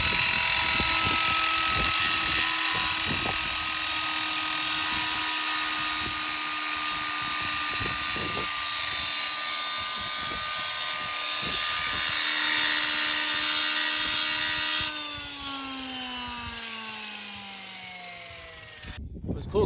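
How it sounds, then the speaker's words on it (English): A high-pitched grinder whines steadily against the metal of a combine header for a long stretch, harsh and close, then spins down as the tool is released. "I take a grinder and I just grind away some of this meat to give it some relief"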